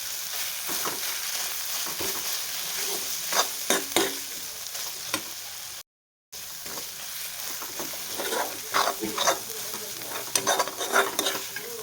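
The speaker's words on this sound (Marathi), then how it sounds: "तिखट पण छान परतेल तेलामध्ये" Chili powder and onion-garlic masala fry in oil in a pan for chana masala, with a close, steady sizzle and repeated scraping stirs. The sound drops out briefly midway.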